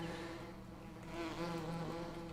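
Bees buzz around stacked bee hive boxes in Farming Simulator 17, a steady, droning hum that swells slightly midway, with no talk over it.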